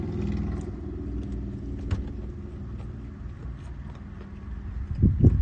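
A motorcycle passes on a road with a low, continuous engine rumble that holds steady throughout and swells louder toward the end.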